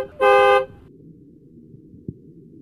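A taxi car horn gives one loud, bright honk lasting about half a second, then fades into quiet low background rumble with a single soft thump near the end.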